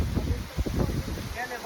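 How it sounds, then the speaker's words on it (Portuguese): Strong wind buffets the microphone outdoors during kite flying, rumbling in uneven gusts, with a person talking over it. "Olha o vento hoje."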